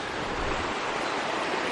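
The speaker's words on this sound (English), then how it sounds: "I can imagine it's just as bad with the river raging next to me" A river rages nearby at night, heard as a dense, steady rushing roar that stays constant and fairly close for a short stretch with no talk.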